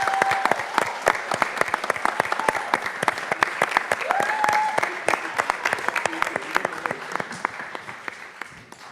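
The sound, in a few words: conference audience applause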